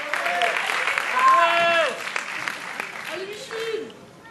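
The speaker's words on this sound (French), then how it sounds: "Au guitare électroacoustique, applaudissez bien fort, Lucas." Audience applause after a school electro-acoustic guitar performance, a short burst of clapping mixed with cheers and whistles, voices calling over it.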